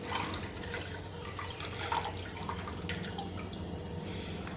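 Dried dates (chhuhara) being washed in a bowl of water make soft, faint sloshing and dripping, steady and low in level, with no one speaking.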